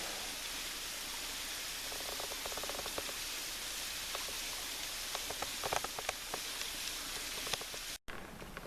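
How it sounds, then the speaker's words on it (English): Steady rain falls on a forest hiking trail in Red River Gorge, a dense continuous hiss with scattered close drips and patters, no voices. "We got rained on, had to throw the rain gear all over everything."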